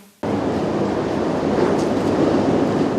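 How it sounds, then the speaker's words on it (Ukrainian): A Kyiv-Uzhhorod passenger train arriving at a railway station: after a brief quiet moment a loud, steady rumble of rolling wagons sets in and continues without talk. "Потяг Київ-Ужгород прибув на залізничний вокзал"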